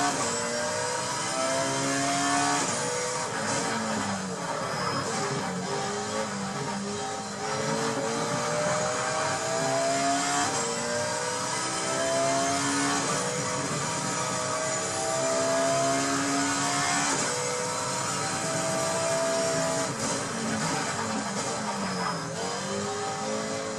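A race car engine in the video game GTR Evolution revs and shifts through gears repeatedly, a steady loud engine drone with rising pitch sweeps over continuous road noise, without talk.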